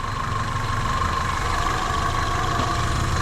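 A car engine idles smoothly under the raised hood, with a steady, even hum close by and no belt squeal, knocks or other noises.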